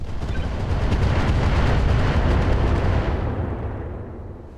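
A heavy, booming blast of weapons fire and explosion rumble comes from mech combat in the video game RogueTech BattleTech. The loud, dense roar holds for about three seconds, then its high end fades into a decaying low rumble.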